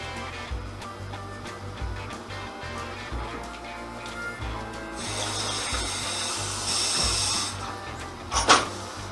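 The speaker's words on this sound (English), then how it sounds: "And then I'm going to fill this with water." Tap water runs into a container while making kombucha at home, a steady hissing splash over a low hum, growing brighter and louder toward the end with a brief clatter near the finish.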